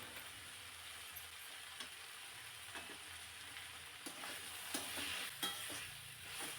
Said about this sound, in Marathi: आपणाला पाहिजे तशी भाजी परतून झालेली आहे.